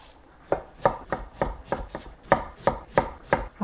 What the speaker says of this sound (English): Next, I have got a carrot, and I'm going to do the same with this, like just chop it as thin julienne as possible.